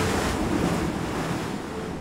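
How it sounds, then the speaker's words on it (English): Ocean waves break on a rocky shore in a loud, rushing wash of surf, with a gusty wind-like roar filling the whole short moment. "battered by the waves"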